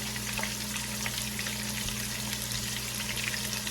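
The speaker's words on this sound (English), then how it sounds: "we're gonna fry these steaks up" Thin ribeye steaks fry in a pan in a home kitchen, giving a steady, close, unbroken sizzle and crackle with a low hum underneath and no talking.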